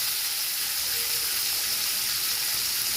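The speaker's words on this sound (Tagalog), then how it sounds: "So, ilagay ko ang onion at garlic" Onion and garlic hit hot oil in a pan that was just used to fry fish, giving a steady, loud, bright hiss of sizzling that holds evenly throughout.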